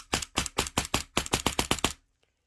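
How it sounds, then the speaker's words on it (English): Polarstar Kythera airsoft engine fires about twelve rapid consecutive shots in a steady, even rhythm, each a sharp close crack, then stops abruptly into silence. "what you're going to want to do is do some consecutive rapid shots"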